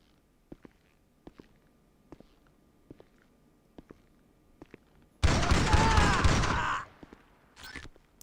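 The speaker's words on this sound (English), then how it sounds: "Start shooting, mofo." Gunfire in GTA 5 Online: a loud, close burst of rapid shots lasting over a second, then a brief second burst, after a series of quiet regular footstep-like thuds.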